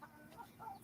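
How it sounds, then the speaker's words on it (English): A farm chicken being chased around its outdoor plot gives a few soft, faint clucks in a short burst, quiet and alone with no talking. "go chase the chicken"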